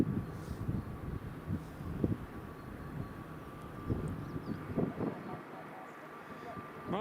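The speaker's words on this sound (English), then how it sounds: "I can hear the A400, but I cannot see him" An A400 military transport aircraft at Edinburgh Airport drones faintly in the distance, a low engine hum beneath wind noise and scattered bumps.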